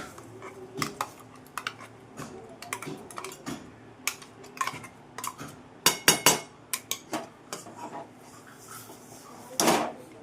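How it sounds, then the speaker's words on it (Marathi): Ground moong dal stirred and roasted in a pan for halwa, a string of irregular clicks and scrapes of a spoon against the metal pan, some sharper and louder, with no voices. "आपण सतत हलवत मग डाळ भाजून घेणार"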